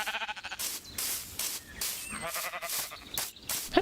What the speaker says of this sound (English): I completely forgot that I made this pen here for sheep.